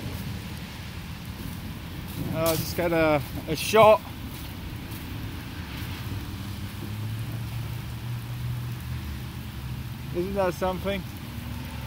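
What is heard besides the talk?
heavy rain from supercell storm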